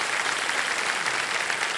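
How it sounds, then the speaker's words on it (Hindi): Studio audience on the Kaun Banega Crorepati game show breaks into a short, dense burst of applause welcoming a contestant, steady and bright throughout. "वाह, तालियां बज जाए स्वागत के लिए।"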